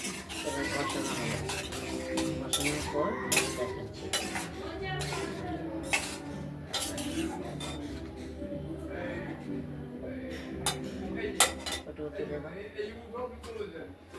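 Koi fish curry with potatoes, beans, tomato, turmeric and ground spice paste is stirred and fried in a pan, with steady sizzling and intermittent clinks of a utensil against the pan while someone talks throughout.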